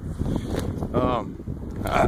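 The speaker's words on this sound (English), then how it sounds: "I don't know why it's always so windy when I come to this place" Gusty wind buffets the microphone in low rumbling blasts, with someone talking over it.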